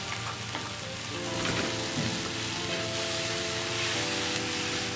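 Ground tomato paste hitting a hot pan and being stirred in, a continuous loud sizzle with scraping strokes and bubbling, close and dense for the whole stretch, no speech.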